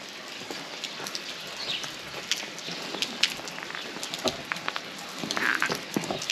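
Rain patters steadily on an umbrella outdoors in Spain, a dense, crackling hiss of drops with scattered louder taps, fairly close and continuous with no talk.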